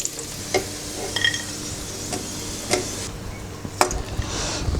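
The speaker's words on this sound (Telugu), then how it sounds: "కిస్మిస్లు, జీడిపప్పు వేపుకుందాం చక్కగా నెయ్యిలో. సిమ్లో పెట్టుకొని వేపుకోవాలి ఇవి చక్కగా." Raisins and cashews frying in ghee over low heat for rava peanut laddu, a soft steady sizzle with occasional stirring clicks and light pops of the spoon against the pan, close and alone.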